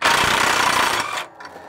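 Pneumatic impact gun on a bolt of a planter row unit, a loud close rattling burst for about a second that cuts off abruptly, followed by faint mechanical ticks.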